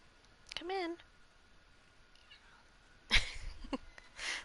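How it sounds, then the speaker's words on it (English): A character in the Genshin Impact game lets out a short, high rising meow, clear and close, followed by other brief voiced sounds and clicks in the game audio. "I don't know if you heard her, but she just meowed."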